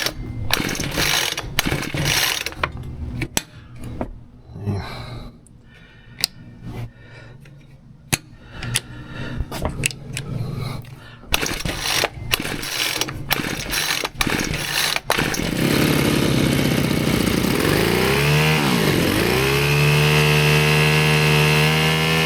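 A Ryobi S430 4-cycle string trimmer gets several sharp rasping pull-cord yanks, close and loud, before the small engine catches and runs with a steady droning buzz that rises and dips as the throttle changes.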